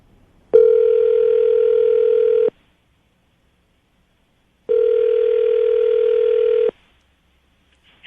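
Two long steady telephone ringback tones, each about two seconds, separated by silence, clear and close with no talking.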